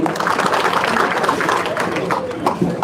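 An audience at a public assembly applauds to welcome MLA Suresh Dhas onto the main stage: dense, steady clapping from a large crowd that fills the whole stretch, with voices mixed in.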